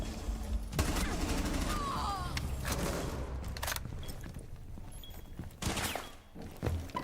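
Bursts of automatic gunfire in Rainbow Six Siege, sharp separated volleys over a low mechanical rumble with occasional thuds and footsteps between shots, moderately loud and close.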